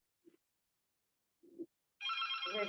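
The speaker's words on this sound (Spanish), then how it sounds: "que contesten el teléfono, por favor." An office telephone starts ringing with a bright electronic trill after two short soft knocks, sounding close and alone.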